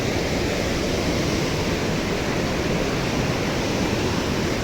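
Water plunges at Sahasrakund waterfall in Maharashtra: a constant, dense roar of falling water, heard loud and close with spray and no break.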